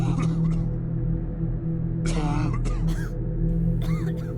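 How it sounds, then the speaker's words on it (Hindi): People choke on smoke in a horror story sound effect, with several rough coughs and gasps arriving in scattered bursts over a steady low drone. "धुएं से सबको खांसी आने लगी"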